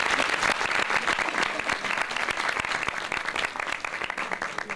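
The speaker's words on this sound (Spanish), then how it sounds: "muchas gracias y un aplauso para ellos" Sustained applause from an audience at a lecture during an international book fair, dense and continuous with crisp individual claps audible throughout, steady in level for several seconds.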